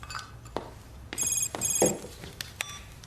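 A telephone rings in short electronic bursts, two clear trills in a row, moderately loud over a quiet room with a few faint knocks and shuffles around them.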